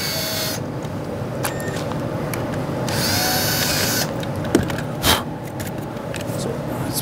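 A power drill bores a hole beside a Ford tail light, several short bursts of whirring broken by pauses, with a couple of knocks and low background noise.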